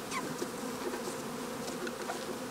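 Agitated honeybees buzz loudly in a dense, continuous drone while being dumped from a box into a new backyard hive, no voices present.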